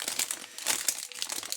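A letter envelope being opened by hand, close crinkling and crumpling of paper in quick irregular bursts with no talking.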